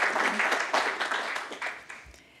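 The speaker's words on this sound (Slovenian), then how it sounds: "Lahko pa ji zaploskamo, seveda." Audience applause at an award ceremony for a government office's prize competition, a steady patter of many hands clapping that gradually fades out, with no talking.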